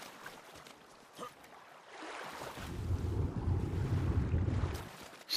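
Splash and rushing water after a jump into water in the game Ark: Valguero, a soft start building into a broad, sustained wash of churning water and wind-like noise, then easing off before a sharp final burst.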